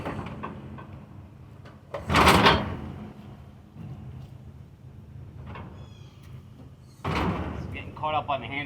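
A John Deere skid steer cab is pried up and lifted open, giving a loud metallic clunk and rattle near the start and another burst of creaking, scraping metal later, with steady low rumble between.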